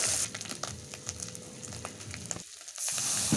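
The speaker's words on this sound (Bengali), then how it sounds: "আমি কিন্তু অল্প অল্প জল দিয়েই কষাচ্ছি, না হলে তলায় পুড়ে যেতে পারে।" Masala and fish sizzle and fry in a pan while being sautéed with small splashes of water, with a steady crackle, scattered spatter pops, and a brief quieter lull before the loud frying returns.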